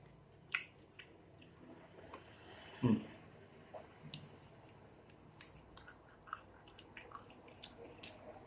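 Quiet, irregular chewing of thick, crunchy jackfruit with occasional soft crunches and wet clicks, close up, one louder bite near the middle, no talking.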